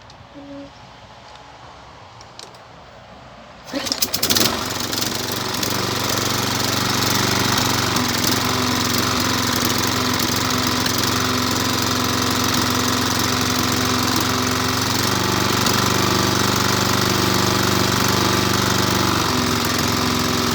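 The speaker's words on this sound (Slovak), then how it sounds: "Videli ste, že motor pekne naštartoval hneď na prvýkrát, na prvé potiahnutie" A cold mower with a Jikov Bravo MHR 55 engine is pull-started in the open: quiet at first, then the engine catches on the first pull with a sharp burst and settles into a loud, steady running drone.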